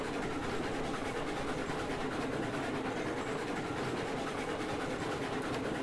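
A train in the Railroads Online video game rolls across rail switches, giving a steady, loud rumbling clatter with dense rhythmic clicks throughout and no talking.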